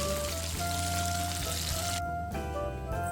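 Chicken frying in hot oil, a loud, dense, continuous sizzle with crackling bubbles that briefly thins out partway through, alongside faint steady tones.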